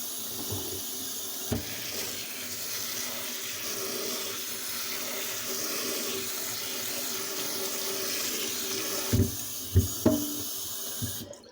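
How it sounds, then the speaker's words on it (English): Cool tap water runs steadily into a sink as freshly picked red clover blossoms are rinsed, a continuous close hiss with a few soft knocks and splashes near the end. "So I'm rinsing these with cool water."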